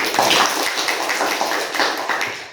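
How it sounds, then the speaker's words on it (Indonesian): Students clap together in an Indonesian Islamic studies classroom, a loud, even patter of many hands with a rough beat running for a couple of seconds, and no talk over it. "Kita berikan tepuk tangan dulu."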